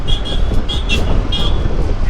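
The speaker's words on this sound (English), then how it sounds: "Someone is honking like crazy" Car horns honk repeatedly in busy road traffic, short beeps that come close together over a loud, steady rumble of engines and wind.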